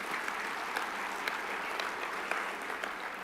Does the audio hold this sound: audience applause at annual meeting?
yes